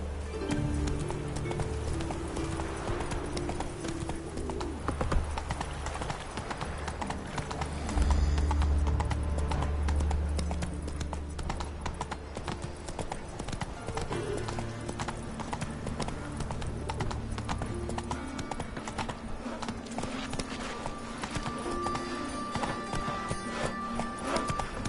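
Roach the horse gallops in The Witcher 3, with rhythmic hoofbeats throughout over a music score and brief snatches of voices.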